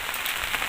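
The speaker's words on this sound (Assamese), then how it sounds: "তো গৈ আছোঁ বৰষুণৰ মাজে মাজে, আপোনালোকে চাই থাকক।" Steady rain falls during the monsoon near a village market in Assam, a dense, even hiss with no pauses and no voices.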